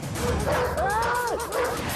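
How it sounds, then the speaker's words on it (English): Dogs bark and yelp amid a loud, noisy background, with a rising and falling howl-like cry in the middle. "Right now, the barking animals seem to be forming a circle around you."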